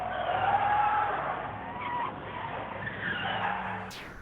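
A radio-controlled car skids with a sustained, fairly loud tire squeal and scrape that fades toward the end, with little else around it.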